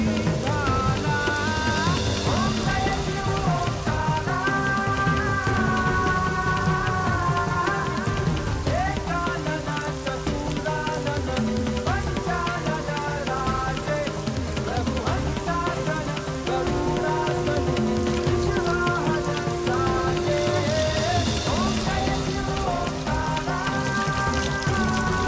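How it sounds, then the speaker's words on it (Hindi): Rain patters steadily on surfaces throughout, mixed under melodic music that plays continuously. "देखो माँ बाबा बारिश हो रही है,"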